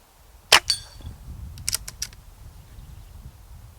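A single shot from a Crosman 2240 GravMag air pistol at an outdoor range: one sharp, close crack, followed by faint metallic clicks of a distant target being hit or the pistol being handled, with no talking.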